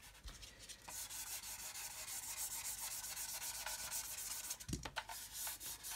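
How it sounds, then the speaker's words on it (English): Steady, scratchy hand sanding rasps back and forth over primer, close and continuous, with a brief knock near the end. "So we can just get some primer on there and then sand them out."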